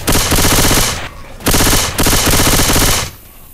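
Rapid automatic gunfire in Left 4 Dead 2, loud and close, in two sustained bursts separated by a short pause, with no speech over it.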